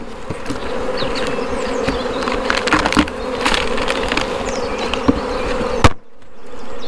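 Honeybees buzz in a dense, steady hum after a hive frame is sharply tapped, with scattered knocks and bumps throughout and a louder thump near the end before the sound drops away.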